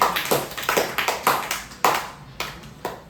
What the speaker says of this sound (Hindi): चलिए, बहुत सुंदर, ताली बजाइए सब लोग इनके लिए